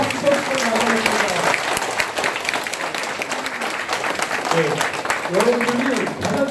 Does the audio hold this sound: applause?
yes